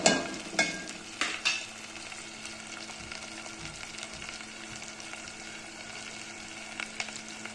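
Ginger garlic paste fries in a pan with a steady, close sizzle. A few sharp stirring clatters come early, then the frying continues evenly on its own.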